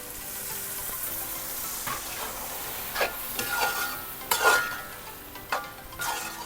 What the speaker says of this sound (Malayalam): നമ്മൾ അരച്ച മസാല കുറച്ച് മിക്സിയിലത്തെ വെള്ളം കുറച്ച് ഒഴിക്കും.